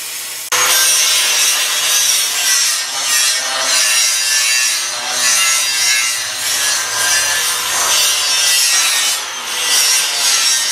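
A wire brush scrubs back and forth along a steel channel iron beam for a porch build, making a loud, continuous, rhythmic gritty rasping close up with no talking.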